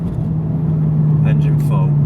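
A 486bhp BMW 135i E82 coupe's engine makes a steady, droning induction hum from inside the car while people talk over it.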